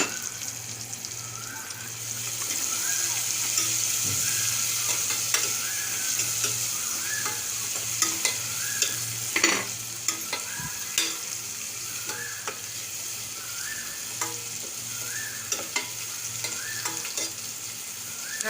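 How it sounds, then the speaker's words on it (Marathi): Crushed garlic fries and is stirred in a pan, a steady sizzle with repeated scraping strokes of a spoon or spatula, close and moderately loud, with no talking. "लसूण पण चांगला भाजून घ्यायचा."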